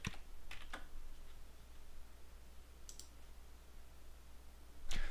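Sparse keystrokes on a computer keyboard while labels are entered in Civil 3D software: a few soft clicks near the start, two more around the middle and a final click at the end, faint over quiet room hiss.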